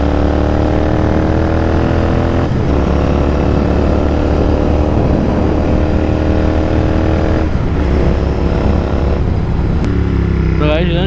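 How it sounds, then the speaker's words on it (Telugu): Royal Enfield GT650 motorcycles ride on Hyderabad roads with loud, sustained engine drone and rising revs that shift pitch between gears, close and dominant throughout. "మొత్తం బైక్స్ సౌండ్ అయితే నెక్స్ట్ లెవెల్ ఉన్నాయి అసలు"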